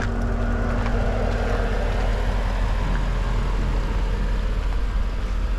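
A 2015 Porsche GTS V8 engine idles in a steady, smooth low rumble, with a constant, even drone throughout and no talking.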